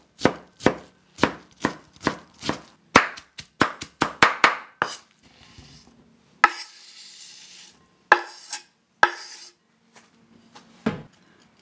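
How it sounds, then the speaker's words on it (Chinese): A knife chops softened radish finely on a board, giving a quick run of sharp, close taps that speeds into a dense flurry, then breaks into scattered knocks and scraping pauses. "把它取出来，把它切碎，切得越细越好"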